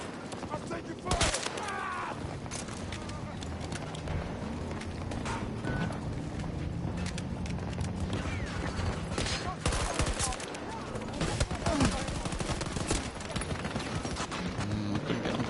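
Constant gunfire in Battlefield 2042, a video game: dense overlapping rifle and machine-gun bursts, loud and close, with explosions and shouted voices mixed in throughout a chaotic battle.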